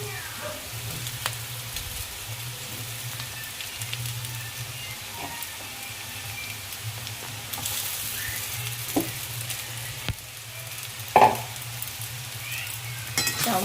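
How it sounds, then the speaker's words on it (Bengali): Potato, onion and chilli fry with chowmein noodles in a pan, giving a continuous close sizzle with occasional stirring scrapes and a brief louder clatter near the end. "আলু পেঁয়াজ লঙ্কাটা মোটামুটি ভাজা হয়েই গেছে"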